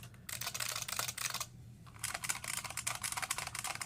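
Typing on an IBM Model F mechanical keyboard, new old stock and not yet broken in, giving a rapid stream of crisp, clustered keystrokes with one short pause, close and fairly quiet, with no voices.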